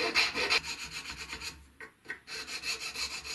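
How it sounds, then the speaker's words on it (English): A file rasping back and forth on wood for a pistol case box, heard as steady, close, rhythmic strokes with a short pause midway and no talk. "File it down to this line, because that determines the interior dimensions of the box."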